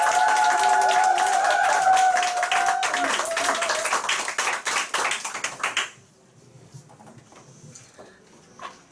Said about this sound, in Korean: 한복희 사장님 앞으로 모실 때 큰 박수 부탁드리겠습니다